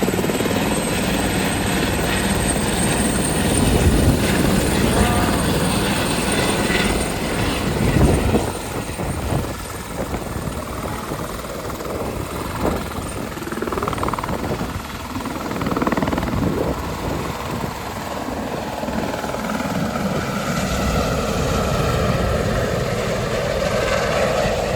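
A helicopter runs at a helipad on a river in Melbourne, its steady loud rotor and engine roar continuing throughout, close by and unbroken.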